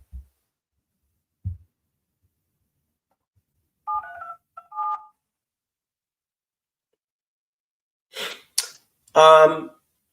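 Two short bursts of touch-tone telephone dialing beeps during a commercial real estate cold call, preceded by faint low thumps and followed by brief rustles and a breathy noise, in an otherwise silent room.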